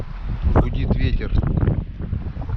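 Wind roaring through the taiga forest in spring, a steady broadband rush with gusting swells lasting throughout and close to the microphone, with no clear talk over it.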